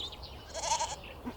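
One faint, brief goat bleat rising out of a quiet background, soft and somewhat distant, with no one talking.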